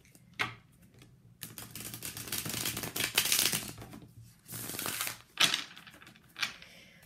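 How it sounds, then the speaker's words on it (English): A tarot card deck being shuffled by hand, with repeated bursts of riffling and sliding cards separated by short pauses, close and crisp, with no talking. "Let's just shuffle."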